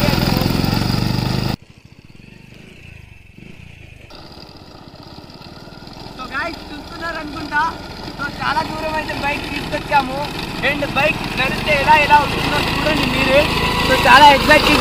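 An NS motorcycle's engine runs while riding on an experimental front tyre: a low, rough drone that starts loud, drops away, then builds steadily with faint rattles, while someone talks.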